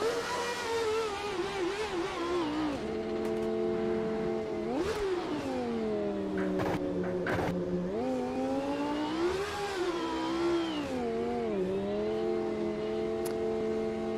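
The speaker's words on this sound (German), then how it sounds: "Das ist ein Formel-1-Sound." A McLaren MP45B V10 Formula 1 engine in the racing game Automobilista 2 hums steadily with a bright, buzzing harmonic tone. Its pitch rises and dips in gentle swells throughout, and no one speaks.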